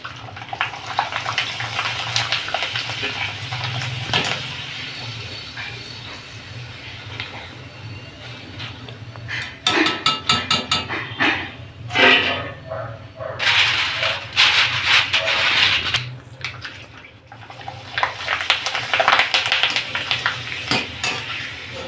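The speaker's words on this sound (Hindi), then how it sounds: "तलने के लिए मैं गैस पर कढ़ाई रख दी है, उसमें थोड़ा सा ऑयल डाले हैं। अब इसमें चिप्स डालेंगे।" Potato chips frying in very hot oil in a kadhai on a gas stove, a steady loud sizzle and bubbling with clinks and scraping of a utensil stirring through it.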